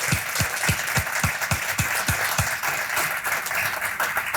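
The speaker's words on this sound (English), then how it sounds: "So if you would all give yourselves a big round of applause" Audience applause for donors at an annual supporter celebration: a dense, steady wash of many hands clapping that holds evenly for the whole stretch, with a few strong individual claps standing out near the front.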